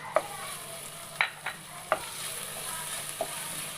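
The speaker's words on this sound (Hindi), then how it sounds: "इसमें अदरक लहसुन का पेस्ट हम डालेंगे" Ginger garlic paste fries in oil with a steady, close hiss and sizzle, broken by a few light clicks of a spoon against the pan, with no talk.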